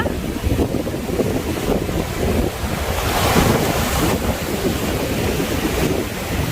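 Ocean waves and surf at Pranburi beach in Thailand, with surfers out on the water: a steady, loud wash of breaking waves and rushing water, mixed with wind buffeting the microphone throughout.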